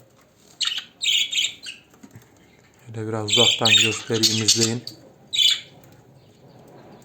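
Budgerigars squawk and chirp in short bursts nearby, with wings flapping and a person speaking briefly over them.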